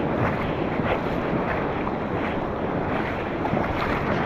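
Ocean surf rolling in and breaking on a beach where someone is fishing from the shore, a steady broadband wash of waves with wind buffeting the microphone throughout, fairly loud and continuous with no talk.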